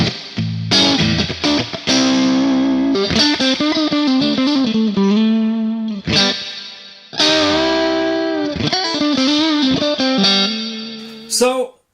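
Guitar run through a Neunaber Immerse Reverberator pedal on its wild setting, with tone at full and low cut high; swelling, heavily washed notes bloom and trail off in long ambient tails, loud and alone in separate phrases.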